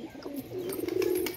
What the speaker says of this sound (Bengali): দেখুন একটা পায়রা এসছে এর জন্য নড়াচ্ছে পায়রাটাকে